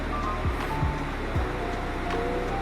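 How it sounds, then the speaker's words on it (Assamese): A large river in Mandi, Himachal, flows nearby as a steady, broad roaring wash of water that fills the background, with a few faint passing tones over it and no voices. "বহুত ডাঙৰ এখন নদী বৈ আছে ইয়াতে। মাতটো চাগে আপোনালোকে শুনা পাইছেই"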